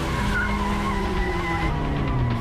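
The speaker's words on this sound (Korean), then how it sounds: "이게 스포츠카니까 드리프트가 잘 되는 거거든 저게." A sports car in the video game Quantum Break drifts with a continuous tire skid and squeal over a droning engine, loud and unbroken from start to finish, with no talk.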